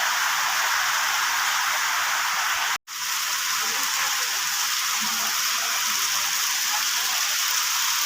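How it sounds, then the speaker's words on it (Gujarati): Heavy downpour in a village, a loud, dense, unbroken roar of rain with one brief cut near the start. "ધાર વરસાદ પડે છે પણ રહેવાનું નામ નથી લેતા."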